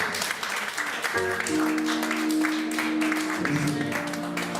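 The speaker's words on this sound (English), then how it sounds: "Come on, clap them one more time." Sustained applause from a church congregation, steady and moderately loud throughout, with a voice talking over the clapping.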